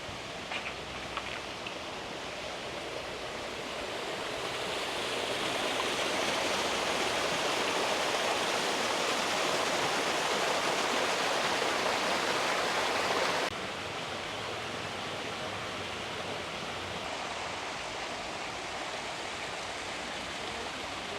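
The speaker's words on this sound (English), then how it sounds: "So the waterfall's going today." A garden waterfall in Puerto de la Cruz, Tenerife, pours with a steady, full rushing roar that swells louder partway through and then settles back to a softer hiss, with no voices.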